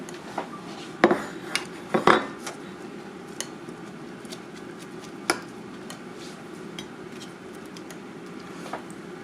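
Poached oysters set out on a plate in a home kitchen, a few light clinks of shell and utensil against the dish early on, then sparse faint taps in a quiet room.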